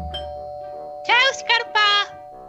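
A doorbell rings repeatedly in a Czech Minecraft sketch, giving three short, bright electronic bursts in quick succession, the first longest. It sounds close and loud over a faint steady background tone.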